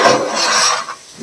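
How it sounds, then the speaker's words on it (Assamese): A spoon scrapes and rasps as washed rice is stirred in a cooking pan for potato pulao, with one short, close, gritty sweep and a quick knock at the end. "লৰাই থাকি"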